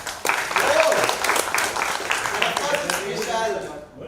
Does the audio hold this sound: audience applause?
yes